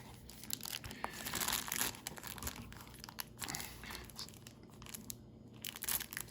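Foil wrappers of 1980s football trading card packs crinkle and tear close by as they are cut and pulled open, soft irregular rustling bursts without talking.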